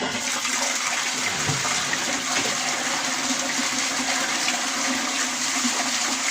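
A home toilet flushes with a loud, close rushing gush of water that keeps running steadily as the bowl drains and the tank refills.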